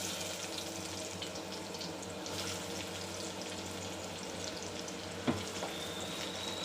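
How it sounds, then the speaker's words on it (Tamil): Onion and ginger frying in sesame oil for a chicken gravy, a quiet, continuous low sizzle with soft stirring and one brief clunk near the end. "இது நல்ல ப்ரௌன் கலரில் வர நல்லா வதக்கணும்"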